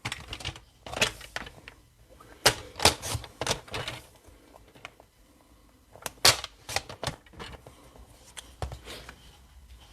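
A paper label for a handmade Stampin' Up card being cut, heard as a series of crisp, close snips and clicks in short bursts separated by quiet pauses.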